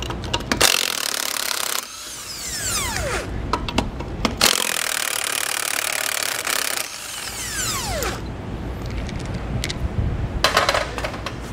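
A 21 mm socket tool spins lug nuts off a trailer tire in two long whirring bursts with falling pitch, separated by short pauses and close-up clinks of the socket and nuts.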